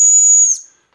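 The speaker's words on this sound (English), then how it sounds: "Have you blown into that whistle?" Sharp, piercing blast from a small plastic race-vest safety whistle, one steady shrill tone held for about half a second before cutting off, loud and close.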